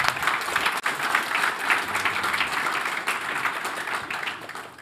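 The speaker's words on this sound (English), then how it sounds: "first the applause to the speakers" Audience at a cybersecurity conference hall applauding presenters after a talk, dense sustained clapping from a sizable crowd, loud and steady with no speech over it.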